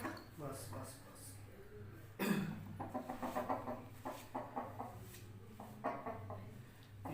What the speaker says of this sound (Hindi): पूरा मुर्गा दिखाएं एक बार